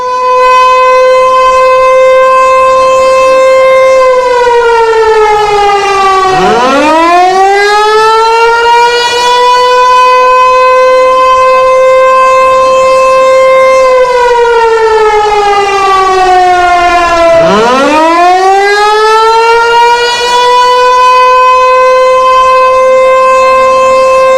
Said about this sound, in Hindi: देश के 244 जिलों में युद्ध का सायरन बज गया है।